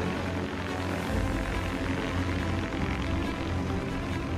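Autoflight Prosperity One eVTOL air taxi coming in to land, a steady loud whirring drone of propellers and motors, close and continuous with no talk.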